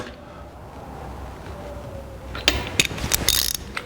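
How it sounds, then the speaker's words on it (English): Tightening a spark plug on a 1985 Honda ATC200M with a ratchet: a quiet stretch, then a quick run of crisp ratcheting clicks, close and fairly loud. "We'll put a little anti-seize on the thread so we don't tear up the aluminum, and screw it in."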